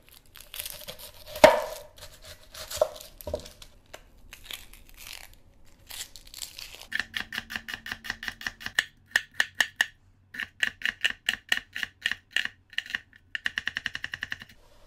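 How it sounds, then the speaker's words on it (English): A knife dices a small yellow onion on a cutting board, first a few scattered cuts, then quick rhythmic runs of close, crisp chops in bursts. "I'm gonna dice up 1 small yellow onion"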